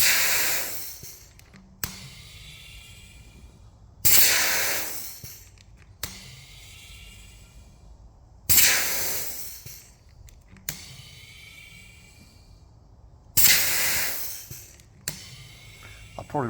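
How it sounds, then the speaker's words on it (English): Air tool winding back the brake caliper piston on an Iveco 75E15 horsebox, sharp bursts of compressed air hissing in strong repeated blasts every couple of seconds, each fading into quieter ratcheting and rumble in between. "Can you see the piston ratcheting itself out there?"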